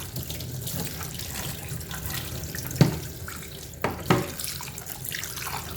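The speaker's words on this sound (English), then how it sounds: "You rinse it using water." Tap water runs steadily while a washing machine dispenser tray is rinsed under it, a continuous splashing hiss broken by a few louder knocks and splashes, with no talking.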